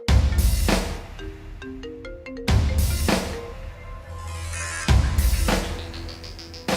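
A mobile phone ringtone plays a repeating melodic tune in loud bursts, each phrase starting with a sharp attack and then fading, heard up close and without talk.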